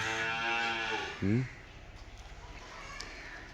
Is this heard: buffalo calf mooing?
yes